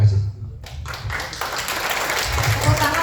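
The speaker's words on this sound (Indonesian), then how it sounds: "Tepuk tangan buat petugas safety kita." Audience applause at a corporate leadership training session, a moderately loud, sustained patter of clapping across the room mixed with crowd murmur and low rumble throughout.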